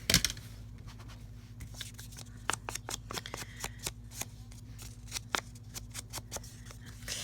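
Ink being dabbed onto a trimmed kraft paper journaling card, a series of soft, dry, close tapping and rubbing pats in an irregular rhythm over a faint low hum, no talking.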